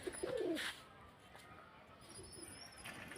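A single low, throaty pigeon coo rises near the start, then fades into faint background hiss with a few thin distant chirps.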